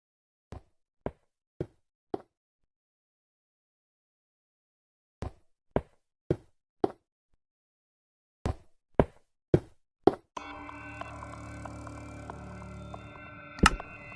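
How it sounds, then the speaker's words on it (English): Minecraft building noises play while the game is paused: sets of four sharp, evenly spaced block-placing knocks separated by silence, followed by denser, clattering game sounds near the end. "Building noises while the game is paused"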